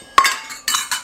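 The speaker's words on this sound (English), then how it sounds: "Go ahead and mix this up." Sliced onions are tossed with garlic, cornstarch and brown sugar in a bowl for an onion and bacon pie, giving a few sharp, close metallic clinks and scrapes of a utensil against the dish, with no talking.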